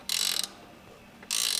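A ratchet loosens hardware on a 1957 VW Beetle during a disc brake and adjustable front beam install: two loud, rapid clicking bursts sit close to the mic, separated by a quiet gap.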